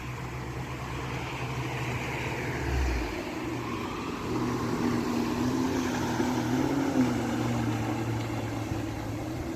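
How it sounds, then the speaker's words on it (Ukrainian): Jet skis ride on a river in Finland, a faint distant engine whine that slowly rises and falls over steady outdoor background noise. "Ось так люди катаються на скутерах на річці."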